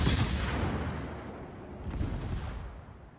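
A heavy battleship gun salvo from the Amagi in World of Warships, a deep rumbling boom with a long fading tail and another thud partway through.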